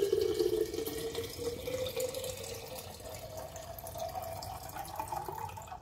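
Boiled water is poured from a container into a glass while making juice, a steady liquid stream with a rising tone as the glass fills, close and continuous with no talking.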